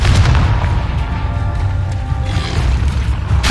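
A Confringo blasting spell explodes in the game Hogwarts Legacy with a heavy, booming blast whose rumbling roar and crackle sustain and swell again near the end, loud and close.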